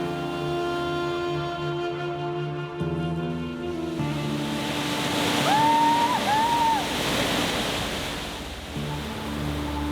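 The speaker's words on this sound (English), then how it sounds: "This is arguably one of Finland's most famous waterfalls." Hepokangas waterfall in Finland, an 18-metre drop, roars as a constant broadband rush close by, with a faint distant whistle-like tone rising twice midway.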